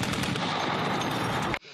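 Rapid automatic gunfire from soldiers at air defence training for shooting down drones, a continuous loud burst of shots that cuts off abruptly, leaving a brief quiet tail.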